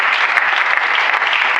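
A church congregation applauding and acclaiming the Lord, dense sustained clapping from many hands with no break, loud and close.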